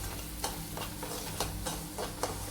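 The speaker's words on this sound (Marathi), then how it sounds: "तर छान असा भाजून घ्यायचा तो लालसर होईपर्यंत हलवत राहायचं" Semolina roasts in hot oil while a spoon stirs it, making rhythmic scraping strokes about every half second over a steady close sizzle, with no voices.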